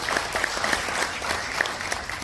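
Audience at a national icon award ceremony breaking into dense, continuous applause, many hands clapping at once with sharp individual claps standing out, loud and close throughout.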